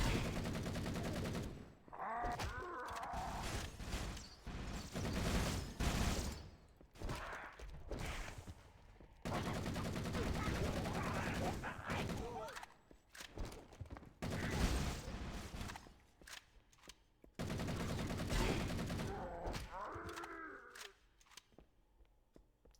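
Assault rifle fire in Halo MCC comes in several long, loud automatic bursts separated by short pauses, with gameplay sounds between the bursts.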